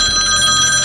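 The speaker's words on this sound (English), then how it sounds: "A phone call?" A telephone rings with a steady, bright electronic trill, loud and close, filling a brief moment on its own.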